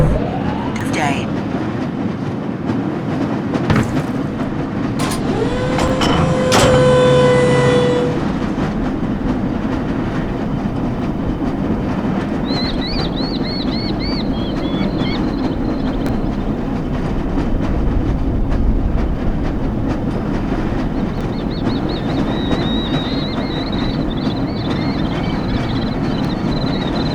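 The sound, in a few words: lever-controlled train moving on rails in video game Black Mesa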